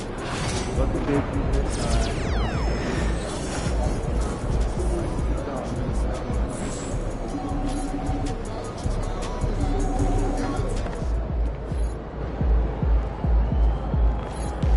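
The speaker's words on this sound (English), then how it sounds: "Surprisingly loud crowd tonight." A loud arena crowd roars in the NBA 2K25 basketball video game, a dense, continuous wash of cheering and noise that runs under game commentary throughout.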